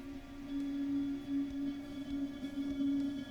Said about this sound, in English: And then the last two guitars I have are this super clean but really reverby delay